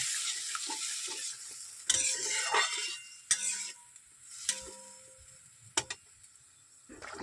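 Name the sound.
water boiling in a pan while cooking katla fish curry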